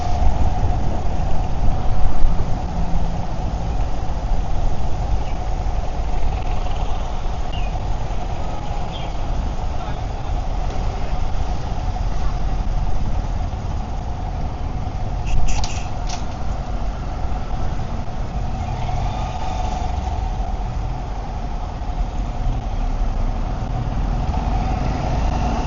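Steady low engine drone from a motorbike riding along a road in Phuket, Thailand, a continuous rumble with wind noise and faint traffic sounds throughout, with no clear talk.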